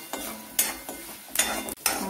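Peanuts roasting in a dry pan for Mangalore avalakki chivda, a few short bursts of scraping and clinking as they are stirred against the metal, close and moderately loud.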